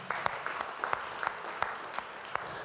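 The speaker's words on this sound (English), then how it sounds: "A round of applause for these people." Audience applause at an industry conference session, steady dense clapping from a crowd with a few sharper individual claps standing out, moderately distant and continuous throughout.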